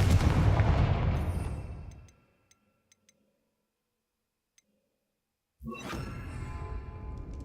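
Spell effects from the Hogwarts Legacy video game as the Confringo fire spell is cast, with a loud, dense burst of fiery noise fading out, near silence with a few faint ticks, then another strong roaring blast.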